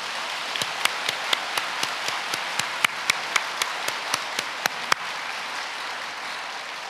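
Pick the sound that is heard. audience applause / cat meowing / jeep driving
audience applause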